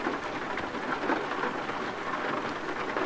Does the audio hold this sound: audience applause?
no